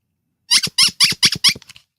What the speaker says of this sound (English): This is a 1957 made in France postcard, and it's a squeaker.